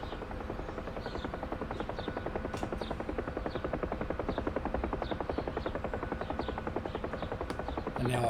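Huey helicopter in the DCS flight simulator with throttle pulled back, rotor blades thudding in a fast steady rhythm under a constant buzzing whine, with a voice speaking over it.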